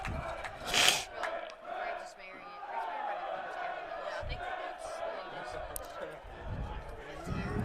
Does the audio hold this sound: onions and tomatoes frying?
no